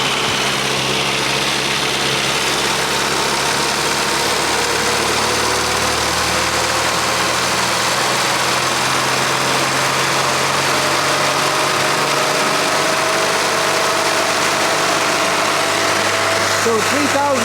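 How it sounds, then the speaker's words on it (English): A running engine is revved to higher RPM while its ignition timing is set, giving a steady, loud drone that climbs in pitch. Someone speaks over it. "now I'm going to increase the RPMs to the next level and see how much we're going to get"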